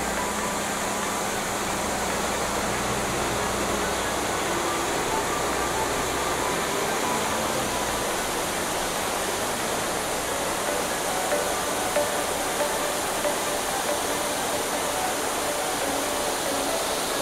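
The Shifen Waterfall river pours out of the mountainside in a loud, steady broadband roar that holds unbroken throughout, with a faint low engine hum underneath early on.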